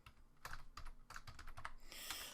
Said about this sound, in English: I can do that easily with the keyboard